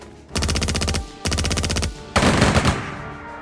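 British infantry open fire in the Strategic Mind strategy game, three loud close bursts of rapid machine-gun and rifle fire, each roughly a second long with short gaps between them, and no voices over them.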